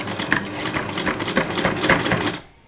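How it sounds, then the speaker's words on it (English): A sewing machine runs steadily at speed, its rapid mechanical whirring and clatter continuing close-up before stopping abruptly near the end. "My sewing machine is kind of loud."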